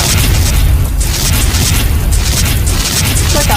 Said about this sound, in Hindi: आग लगने की वजह से एक के बाद एक पटाखा फूटे ही जा रहा था।